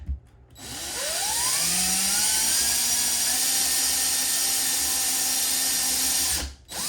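A power drill bores a hole through a wooden cabinet for a toilet paper holder, spinning up with a rising whine, holding a steady loud grind for several seconds, then cutting off.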